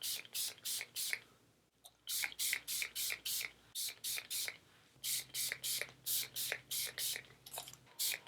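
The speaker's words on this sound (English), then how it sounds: "now I'm going to spray the rest of my hair." A hair fragrance mist (DevaCurl DevaFresh) sprays in quick bursts, several short hissing pumps in rapid runs with brief pauses between them, close and clear.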